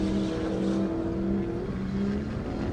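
A 1,000-horsepower Dodge race car accelerates down an airstrip at a half-mile speed event, its engine a loud, steady roar with a sustained pitch and slight wavering near the end.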